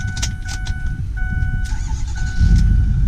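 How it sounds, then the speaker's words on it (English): A 2008 Ford F250 Super Duty with the 6.4 turbo diesel cranks and starts up, clicks and starter whir giving way to a deepening engine rumble that grows louder at the end. "All right, let's fire this baby up."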